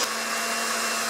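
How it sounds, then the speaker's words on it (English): A small electric hand mixer whirs steadily while beating chocolate cheesecake batter with eggs, a continuous close, loud motor hum with no talking. "Let that little motor just go."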